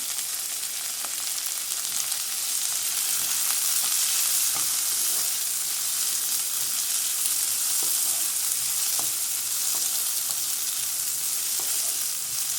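Onions and sesame seeds fry in a pan with a steady, dense hiss of sizzling oil. Occasional faint ticks and pops sit within the sizzle, which holds even for the whole stretch with no talking.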